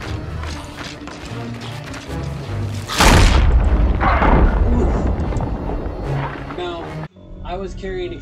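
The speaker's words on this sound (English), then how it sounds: "I heard two explosions though, so there might have been another explosive barrel near me." Explosive barrels blowing up in Sea of Thieves, a loud heavy boom mid-clip that rumbles for several seconds over game noise, with voices talking around it.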